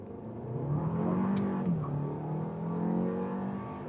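A 2025 Kia K4 sedan's engine revs up smoothly as it accelerates, its pitch climbing steadily and then easing off, heard close and fairly loud.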